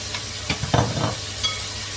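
Colorful cherry tomatoes dropped into a hot pan, giving a short burst of close sizzling and frying crackle that settles into a steady hiss.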